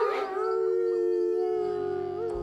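Wolves howl in a witch's forest in a French children's story: one sustained, close, loud howl with rising and wavering pitch, a second lower voice joining briefly, alone without talk.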